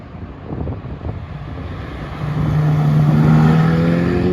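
A McLaren Senna hypercar's engine rises in pitch as it approaches and passes at a car show, partly buried under strong wind buffeting on the microphone.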